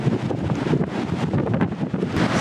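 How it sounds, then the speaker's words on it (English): Strong coastal wind in New Plymouth, New Zealand, buffets the microphone in a constant heavy roar, with no voices. "It's so windy it's pushing me off balance."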